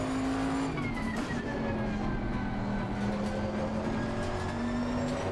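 GT3 race car engine in a racing video game, the Bentley, droning steadily with a sustained tonal whine that shifts pitch slightly as it holds speed, loud and continuous throughout with no talk.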